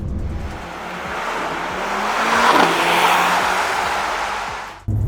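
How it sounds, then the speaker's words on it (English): A Mercedes-AMG C63 S E-Performance four-cylinder, loud and steady, surging slightly mid-way, with sharp crackles and pops from the exhaust scattered throughout and a sudden cut near the end. "you'll also hear the occasional pops and crackles from the exhaust"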